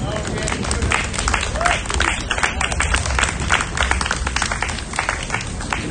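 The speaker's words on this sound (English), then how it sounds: "everybody get a round of applause for my boy Connie" A crowd applauds and cheers for Connie at an outdoor book launch in a city lot, a steady dense wash of clapping and voices running the whole time at close range, with chatter mixed through it.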